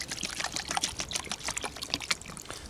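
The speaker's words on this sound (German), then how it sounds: "Und dann wird es mit Wasser aufgefüllt und übers Feuer gehängt." Water pours steadily into a cooking pot at a campfire, filling it for a chicken and rice stew; a continuous splashing trickle, close and fairly loud, with no talk.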